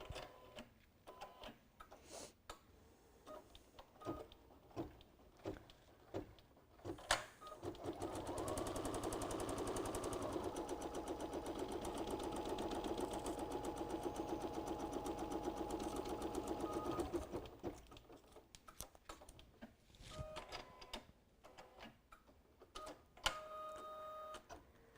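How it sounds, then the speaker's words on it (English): A sewing machine stitches a crossbody bag, running steadily for about nine seconds in the middle, with quieter handling noises before and after. "We're going to stitch it in place."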